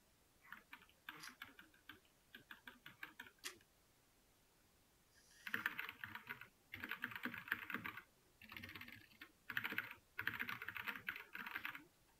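Keystrokes on a computer keyboard, typed in short bursts of rapid clicks with brief pauses between, growing louder and denser in the second half; close and clear with no talking.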